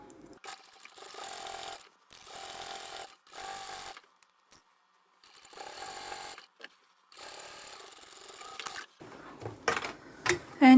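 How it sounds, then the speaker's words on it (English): Sewing machine stitching the seams of a fully lined cross-body satchel bag, running in several steady bursts of mechanical whirring with short pauses between, close and fairly loud, ending in clattering handling noises. "So we'll sew from here to here and here to here, backstitch at each end and all the way across here."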